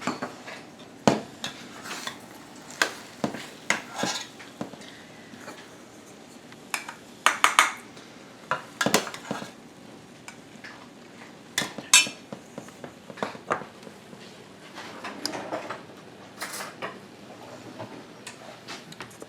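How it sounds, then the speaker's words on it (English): A serving utensil scrapes and clinks against a baking pan while baked cherry dumplings are dished up, a series of irregular metallic taps and scrapes, close and clear, with no talking. "So let's dish up some of these dumplings."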